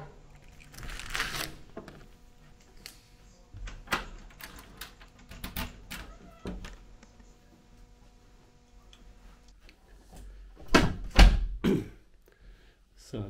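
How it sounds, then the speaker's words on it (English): A standard metal key turns in the lock of a twin room door at the Victorian-style Chase Hotel in Nuneaton before the door is pushed open: scattered sharp clicks, ticks and clunks, close and fairly quiet, with a louder cluster of knocks near the end. "and push the door open."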